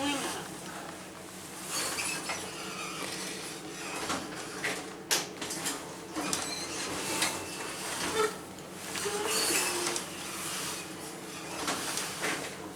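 A hotel traction elevator ascends with a steady mechanical hum, plus scattered clunks and a sliding-door sound, while voices talk over it throughout.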